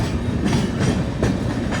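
An Udhampur Superfast Express train runs loudly alongside the Mumbai Amritsar Mail, its wheels throwing a steady rolling roar with rhythmic clickety-clack beats over rail joints, close and without voices.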